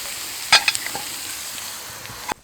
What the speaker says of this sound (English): Those potatoes are still sizzling away